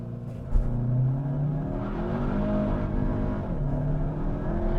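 A 2023 Audi A3, front-wheel drive, accelerates hard from 0 to 60 mph, its engine note rising steadily through the gears with a brief shift dip, heard from inside the cabin as a continuous droning roar.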